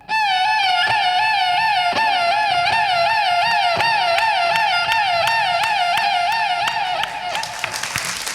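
A police car siren is imitated on violin and flute: a loud, rapid warbling wail that rises and falls continuously, with a faint rhythmic knock underneath and a burst of noise near the end.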